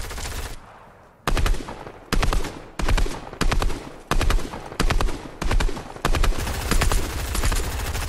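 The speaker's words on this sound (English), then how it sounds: "just keep shooting him out" Assault rifle fire in a Fortnite duo match, loud rapid bursts repeating in steady close succession with brief gaps between volleys.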